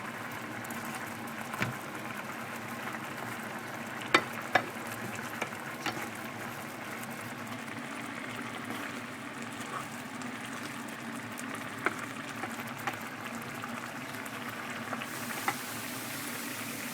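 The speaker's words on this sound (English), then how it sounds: "So we're going to fry this up. We're not going to use any oil." Vegan burger ingredients fry in a pan without oil, giving a faint, steady low sizzle with a few soft clicks and taps of utensils now and then.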